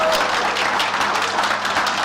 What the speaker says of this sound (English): have a round of applause for our graduates